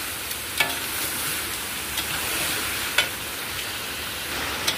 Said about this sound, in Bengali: তো চলুন এটাকে ভালো করে কষিয়ে নিই মাংসটাকে।